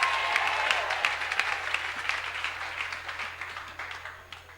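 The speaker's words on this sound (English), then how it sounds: "Somebody clap for Jesus." Steady applause from a church congregation, dense clapping that fills the whole stretch and gradually fades toward the end.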